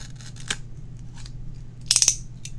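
Scissors cut open a mail-order art-supply package: an isolated snip, then a quick cluster of crisp metallic clicks and cuts, close and alone against a quiet room.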